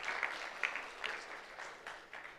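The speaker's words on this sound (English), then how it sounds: "Can we get a hand clap on that?" An audience claps briefly at a cybersecurity career event at a university, a faint, short patter of hands at a distance that fades out within a couple of seconds.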